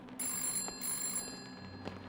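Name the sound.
telephone ringing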